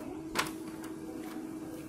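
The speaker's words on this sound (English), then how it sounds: "Now, yes, my printer is optimizing." An office printer with a scanner lock problem runs through an optimizing cycle, giving off a steady low mechanical hum with one brief click early on.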